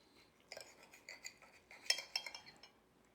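A knife and fork cutting into a smothered Southern-style pork chop on a plate, a few quiet, close metallic clinks and scrapes spaced through a short moment, with no talking.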